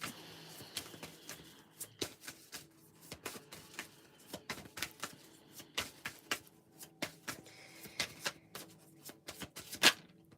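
Rapid, uneven riffling and snapping of tarot cards being shuffled by hand, close and crisp, with a brief bright rattle near the end.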